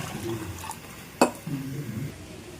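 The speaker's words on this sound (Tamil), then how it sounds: "இப்போ தேவையான அளவு தண்ணி சேர்த்துக்கலாம்." Water is poured into a pot of tamarind rasam with drumstick and stirred in, giving a single sharp clink of a utensil against the vessel and then soft liquid swirling, faint and close.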